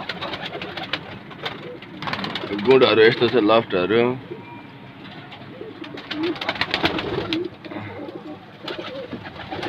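Pigeons in a loft in Bhaktapur, Nepal, including local and golden birds, give a burst of close, throaty cooing, then softer calls amid the rustle of the loft while people talk nearby.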